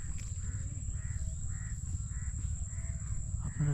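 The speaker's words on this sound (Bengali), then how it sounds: "কিন্তু অনেক কাক ডাকতেছে।" Many crows caw repeatedly in a hot, still forest, with harsh calls rising at a regular rhythm over a low rumbling background and a steady high electrical whine.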